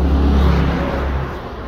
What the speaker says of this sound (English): Traffic is going on.